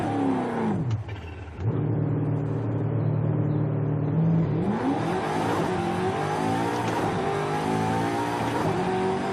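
A car in Forza Horizon 5 launches hard in first gear, its engine revving high and climbing in pitch, dropping briefly at a shift, then pulling up again, loud and close without speech.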